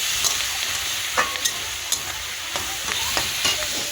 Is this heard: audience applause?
no